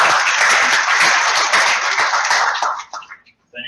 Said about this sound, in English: So can we give a round of applause for our mission members this year?